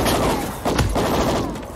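Dense, continuous gunfire from Call of Duty: Ghosts fills the whole span, a loud sustained fusillade with a heavier burst near the middle. Shouted in-game voices are mixed in.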